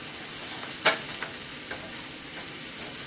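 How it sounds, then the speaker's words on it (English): Tony's seasoning stirred into frying bacon, with a steady hiss of sizzling fat under one sharp clack of the spoon against the pan and a couple of fainter taps after it. "Sprinkle you about a tablespoon of Tony's. And you're going to stir that in now"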